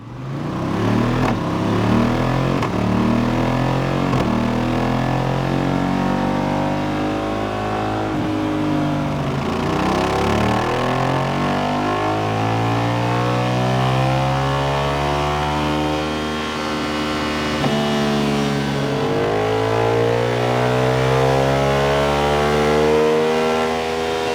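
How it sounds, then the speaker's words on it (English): A Voge DS900X motorcycle engine revs hard on a dyno for a long, loud, continuous stretch, its pitch sweeping up and down again and again through the gears, with no voices. "So let's get it run up on the dyno and then we can write a perfect tune for it."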